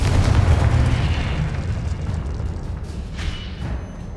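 A Confringo fire spell explodes in the Hogwarts Legacy video game, a loud, low booming blast that rumbles and slowly fades over a few seconds, with no voices.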